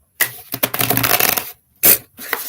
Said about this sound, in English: This can take me a few times to shuffle it.